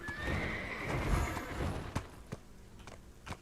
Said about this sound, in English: Come on, horse. Giddy up.